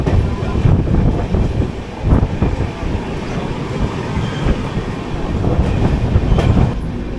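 Yesvantpur–Kochuveli AC Express (22677) running near Krishnarajapuram station, a loud continuous rumble with rhythmic clickety-clack of wheels over rail joints and some wind buffeting, no voices.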